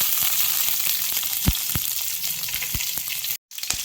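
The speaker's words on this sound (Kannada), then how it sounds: "ಇದನ್ನು ಸ್ವಲ್ಪ ಫ್ರೈ ಮಾಡಿಕೊಂಡು" Mustard seeds and green chilli frying in hot oil give a continuous close sizzle, with sharp pops and crackles scattered through it and a short gap near the end.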